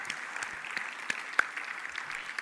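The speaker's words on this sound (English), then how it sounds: "Let's give them a round of applause." Scattered, light applause from a small audience, with individual claps audible over a steady hiss at moderate volume.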